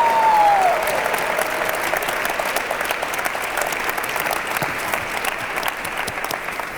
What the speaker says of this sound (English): Let's give them a well-deserved roar and a clap.